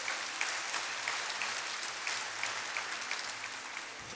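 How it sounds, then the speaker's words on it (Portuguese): Church congregation clapping together during a worship service, a steady dense patter of applause sustained throughout at moderate level, with no voices over it. "Você pode dar salvas de palmas para Jesus?"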